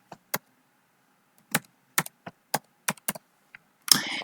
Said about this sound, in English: So we'll just type in quantity.